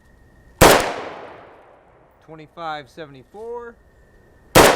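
Two sharp, loud rifle shots of Battle Born .223 Remington 55 grain FMJ fired from a 10-inch M85 PAP outdoors, with a man briefly reading numbers between them and a faint steady chronograph tone.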